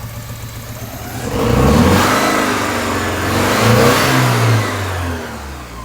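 A 1984 Porsche 944 engine idling with a low rumble, then revving up twice with rising whine before settling back toward idle, running slightly lean, loud and close.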